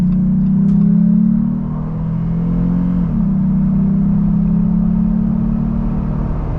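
A Jeep Gladiator pulls out onto a road and accelerates, its engine droning steadily and loudly from inside the cab with a brief dip in pitch midway as it shifts, then climbing again.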